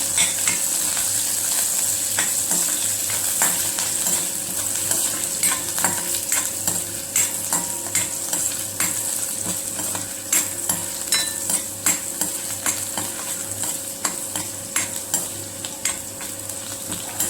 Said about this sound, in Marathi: मिरची टाकूया. तेल गरम झालं आणि जिरे परतवून घेऊया.